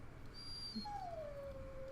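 A dog in the video game Dragon Age: Origins gives a soft whimper that rises into a thin, drawn-out whine, faint over a low background hum.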